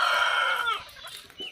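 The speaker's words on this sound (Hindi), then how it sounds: "देखिए इस प्रकार के मुर्गी लोग छप डक रही है" Village-yard chickens cluck and call, starting with a loud, drawn-out rooster-like cry that fades into softer scattered clucks nearby, with no talking.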